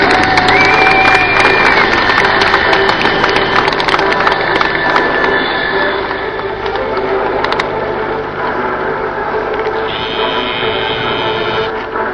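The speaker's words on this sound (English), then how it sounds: "Let's hear the applause." A crowd cheers and applauds for Canadian Forces personnel, a loud sustained wash of clapping and voices mixed with tonal sounds and mechanical rattling that fades a little partway through.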